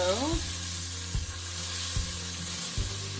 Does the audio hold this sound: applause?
no